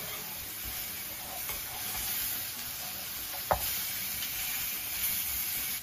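Steaks frying in a pan give off a steady, fairly loud sizzle throughout, with a single sharp knock partway through as one is flipped.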